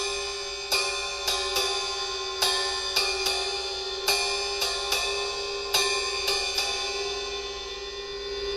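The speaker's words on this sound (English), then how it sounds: "This is going to be a ride cymbal that sounds like this." A drum kit ride cymbal plays a basic mid-tempo swing groove alone, its bright pinging strokes landing in a loose repeating pattern over a sustained shimmering wash.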